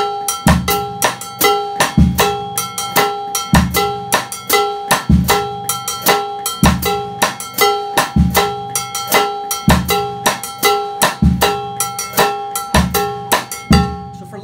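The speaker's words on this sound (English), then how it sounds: "Clave and bongo bell pattern in example three sounds like this." An Afro-Caribbean groove on drum set, with a bright bongo bell pattern ringing over a clave figure and steady bass drum. The pattern is dense, loud and repeating, played close with no talking.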